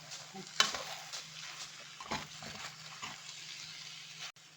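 Chopped coriander being stirred into cheese pasta in a pan over low flame, giving soft scraping stirs with a faint sizzle, close and steady with no talk.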